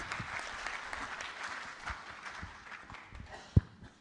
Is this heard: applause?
yes